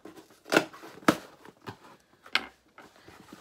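A blade cuts open the tape on a sealed Owlcrate subscription box, a few short crisp slicing and tearing bursts close by in a quiet room.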